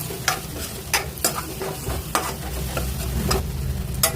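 Chopped tomatoes being stirred into a frying black-eyed pea masala, with a spoon scraping the pan in repeated sharp strokes over a constant close sizzle, and no speech.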